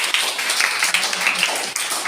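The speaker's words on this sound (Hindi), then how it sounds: "ताली बजाओ।" Students clap together in a classroom during a math lesson, a dense, loud burst of many hands lasting about two seconds.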